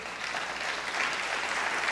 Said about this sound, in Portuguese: Dá um aplauso a Jesus aí.